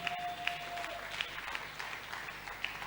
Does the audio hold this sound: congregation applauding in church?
yes